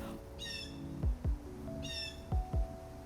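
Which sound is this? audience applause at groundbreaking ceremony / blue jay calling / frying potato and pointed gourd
blue jay calling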